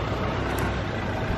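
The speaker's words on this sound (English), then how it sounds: "There's quite a few cars coming down this street" Cars drive past along a busy city street, a steady close wash of traffic noise and engine rumble with no break and no voices.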